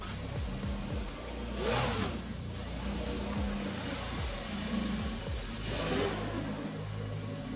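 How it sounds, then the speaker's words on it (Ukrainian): A truck engine idles and revs after a throttle cable repair, a steady mid-pitched running hum with two louder swells of throttle, heard at close range with no talk. "тросик газу зробив, вантажівочка на ходу"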